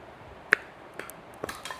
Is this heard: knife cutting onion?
yes